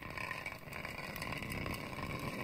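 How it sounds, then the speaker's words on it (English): A soda can scraped against a surface gives a loud, continuous, gritty metallic grinding that rasps along steadily for the whole stretch, with no voices. "Oh, soda can scraping."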